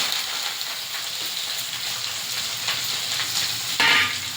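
Chopped potato, eggplant and red amaranth greens sizzle steadily in hot oil for a rural-style chorchori, a continuous close hiss that flares briefly louder near the end as the pan is stirred.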